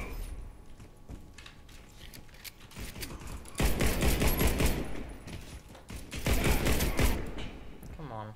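CZ 75 pistol fired in Warface, with scattered sharp shots early, then dense rapid bursts of close gunfire that fall briefly quiet before another loud volley, with faint mechanical clicks between.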